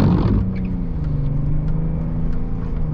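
A BMW 730d E38 diesel saloon with 184 hp and a lazy automatic gearbox, driven in sport mode, gives a steady, loud low engine drone with road rumble, heard from inside the cabin.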